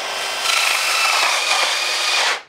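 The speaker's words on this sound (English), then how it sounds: "And then we just drill where we want it to go." A hole saw drill bores through foam for about two seconds, a steady grinding, continuous hissing rasp that stops abruptly at the end.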